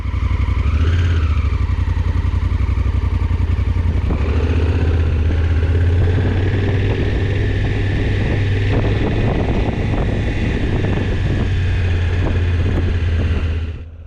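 A motorcycle rides through a residential neighborhood, its loud, close engine droning steadily with a rise in revs and wind rush over the microphone throughout.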